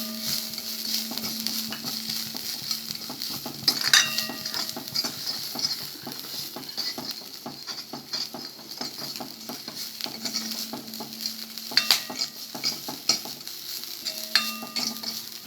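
Masala sautés and is stirred in a pan while rasam is made. A low sizzle carries a steady patter of stirring strokes, with a few sharper clatters along the way. No voices are heard.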